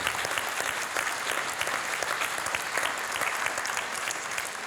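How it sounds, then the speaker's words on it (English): A dense round of applause from an indoor audience at a veterinary sporting event, sustained clapping at an even loudness for several seconds with no voices standing out. "First of all, a round of applause for Susie"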